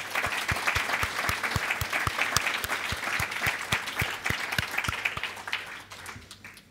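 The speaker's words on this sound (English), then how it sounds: "So I'd like to a round of applause for them as well." Conference audience applauding the event's corporate sponsors, a sustained round of many hands clapping that fills the hall at moderate volume, steady throughout and thinning slightly at the end.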